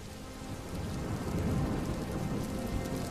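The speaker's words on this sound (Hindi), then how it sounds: "हो, बहुत पानी गिर रहा है।" Heavy rain pours steadily on a surface in a thunderstorm, a dense, continuous hiss with low rumbling beneath, building slightly and holding loud throughout.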